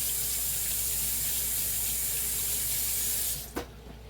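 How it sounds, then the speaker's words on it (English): Tap water running steadily into a kitchen sink as hands are washed, a constant close hiss that stops near the end with a brief clunk. "Wash my hands again."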